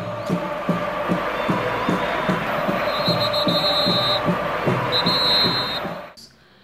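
Flamengo football supporters chant and cheer in a stadium stand, a loud rhythmic crowd chant with steady regular beats and drum-like pulses, a whistle-like tone appearing twice, fading out at the end.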